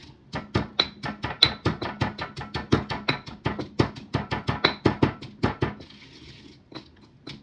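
Rapid, regular thuds and squelches of a masher working through cooked potatoes in a slow cooker, around twenty strokes, close and fairly quiet, then a pause.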